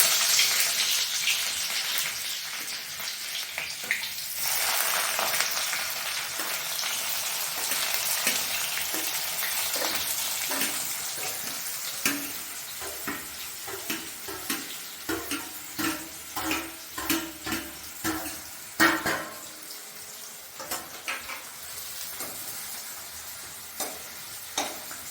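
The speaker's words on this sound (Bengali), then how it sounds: "জিরে দিয়ে তারপরে পেঁয়াজ, আর কি? হ্যাঁ, ও শুধু পেঁয়াজ? পেঁয়াজ ভাজা।" Onions sizzling in hot oil with cumin seeds in a home kitchen pan, a steady frying hiss with stirring scrapes and clatters growing more frequent toward the end, close up and without talk.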